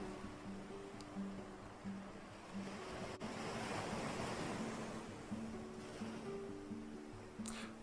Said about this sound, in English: This is the sea.